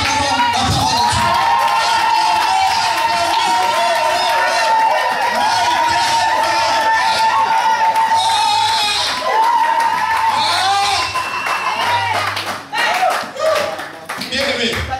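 A church congregation cheers and applauds in a large worship hall, with sustained crowd noise, clapping and a voice carrying over it, thinning toward the end.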